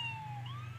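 A wailing ambulance siren from a Superman rescue video game, a single sweeping electronic tone that slowly rises and falls, loud and steady over a low engine hum for under a second, with no talking.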